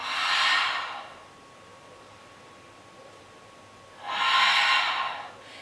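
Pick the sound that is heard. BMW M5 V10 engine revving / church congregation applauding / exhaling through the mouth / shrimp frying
exhaling through the mouth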